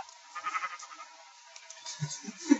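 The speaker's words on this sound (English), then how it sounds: "the sheep are right here" A Minecraft sheep bleats in the Tekkit modpack, thin, nasal calls close by, with a faint voice in the background.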